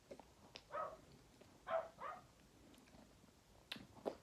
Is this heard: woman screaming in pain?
no